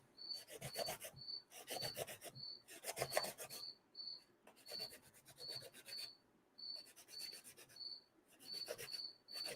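Loud crickets chirp in regular repeating trills indoors, layered over rhythmic rasping bursts of a tool working during a lightsaber build, the two sounds alternating and overlapping steadily throughout.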